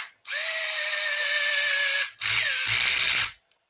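Power driver sinking titanium screws into a new 1/8 scale RC car gear differential case, a steady whirring whine for about two seconds, then a shorter buzzing burst with rattling as the screw seats tight.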